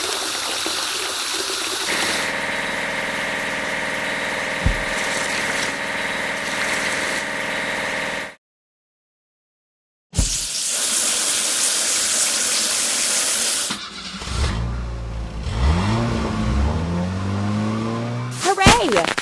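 Toy pickup truck washed with water, a gushing spray and running water mixed with engine-like toy sounds and electronic tones, with a voice talking over it and a short silent gap partway through.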